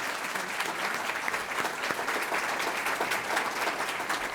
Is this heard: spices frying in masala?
no